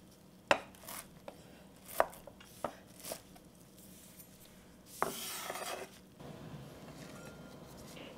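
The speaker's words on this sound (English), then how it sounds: "I'm going to chop this up and add it to the pork paste." Hydrated vermicelli roughly chopped with a knife on a cutting board for pork paste, a few sharp, separate thuds spread out with a short scraping rub between them, close and fairly quiet.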